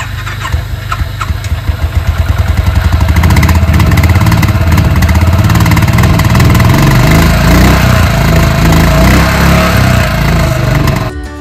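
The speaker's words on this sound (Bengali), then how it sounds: "সকাল সকাল বাইকে স্টার্ট দিয়ে বেরিয়ে পড়লাম" A motorcycle engine is started in light rain on a mountain road in North Sikkim. Quick cranking pulses catch and build into a loud, close, steady idle that keeps running until the end.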